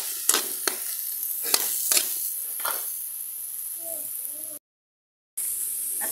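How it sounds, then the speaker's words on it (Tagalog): Carrots hit a pan with chicken and are stir-fried: sharp spatula scrapes and bursts of sizzle at the start, settling into a softer steady fry, with a short silent gap near the end. "Ilalagay na natin yung ating carrots"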